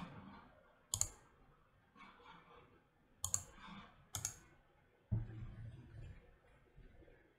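A computer mouse is clicked to save and then build a Zynq FPGA project. Four crisp, separate clicks stand out against a quiet room, with short pauses between them.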